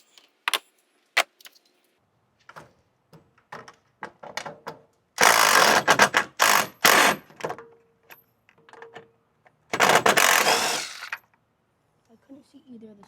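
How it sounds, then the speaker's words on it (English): 10mm socket wrench removing a screw from a car's windshield washer camera housing, short ratcheting clicks and metallic jangling in scattered bursts, close and fairly loud. "You're going to use a 10mm socket to go ahead and remove it."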